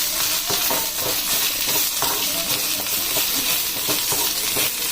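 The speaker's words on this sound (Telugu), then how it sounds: "ఇలా మంచిగా వేయించుకోవాలండి." Stuffed brinjal curry fries in a pan, a dense, steady sizzling hiss with small crackles and pops, close and constant throughout with no pauses.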